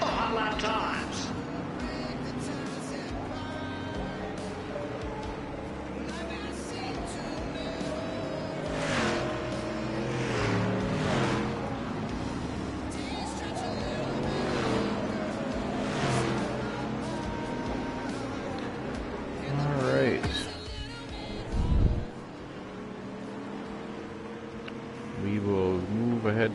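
A street stock race car engine in a racing video game drones and revs steadily, rising and falling in pitch through the laps. Near the end there is a brief louder burst.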